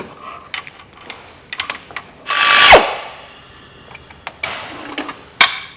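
A ratchet removes bolts from a Kia Sedona Carnival during engine removal near the exhaust and air-con compressor. Several short clicking bursts are followed by one loud, sustained ratcheting run mid-way, then more scattered clicks.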